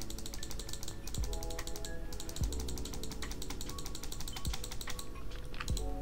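Rapid, steady clicking from auto-clicking the mouse while playing Minecraft Skyblock, a dense continuous stream of sharp taps over a constant game background hum with faint tonal sounds, close and unbroken.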